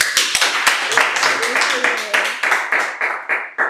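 An audience at a leadership and advocacy conference claps in uneven bursts that grow into a rhythmic, patterned clapping, with voices mixed in.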